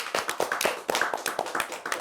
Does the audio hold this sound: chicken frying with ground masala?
no